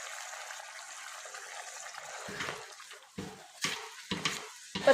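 A spoon scrapes and stirs salt, red chilli and turmeric into a sizzling chicken tikka-style biryani mixture in a pot. A steady frying hiss runs under repeated clattering strokes that grow louder toward the end.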